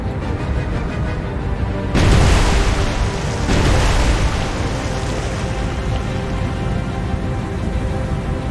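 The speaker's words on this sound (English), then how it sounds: "This one is fully aflame. With a nice explosion." A warship explodes in the naval video game War on the Sea, a heavy booming blast followed by a second rumbling burst, both rolling out over a steady low background roar.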